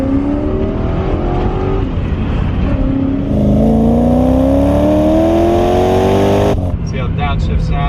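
A Porsche 944 Turbo with an LT1 V8 swap accelerates hard, the engine note climbing steadily through a long pull with a brief lift, loud and close, with supercharger whine noted, then dropping as the throttle closes near the end.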